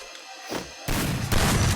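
Shotgun blasts in the Free Fire video game: a quiet lull breaks into a loud, harsh burst of gunfire that keeps roaring, then surges again near the end.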